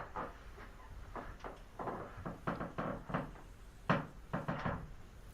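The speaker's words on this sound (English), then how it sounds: "So squeaky floor." A squeaky wooden floor gives a series of irregular creaks and knocks, some close and sharp, spread over several seconds with no talking.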